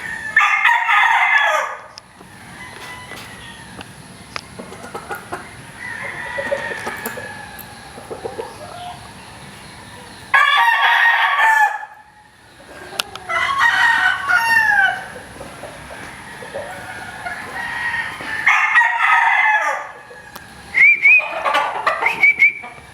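Straight-combed California Dome gamefowl roosters crow in repeated bursts, near and loud, with quieter gaps between calls. The gaps carry clucking and some whistling.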